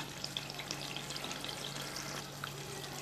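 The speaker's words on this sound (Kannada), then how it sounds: "ಇನ್ನೊಂದು 2 ನಿಮಿಷ ಫ್ರೈ ಮಾಡ್ಕೊಳ್ಳೋಣ. ಫುಲ್ ಫ್ಲೇಮೆಲ್ಲ ಇಟ್ಕೊಳ್ಳೋಣ." Oil sizzles and crackles steadily as Andhra-style fish curry fries over a full flame, a soft continuous frying hiss with small pops, heard close and alone.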